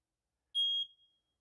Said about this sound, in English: To test your smoke detector, simply push up in the center portion on the test button, and this will cause your smoke detector to beep.